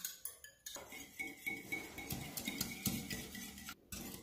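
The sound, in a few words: beating eggs with salt and cream in a bowl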